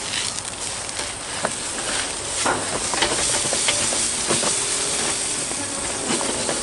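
Canola oil sizzles on a hot Top End Campgear barbecue plate that has just been scraped clean. A loud, continuous hiss carries scattered crackles and pops throughout, with no voices.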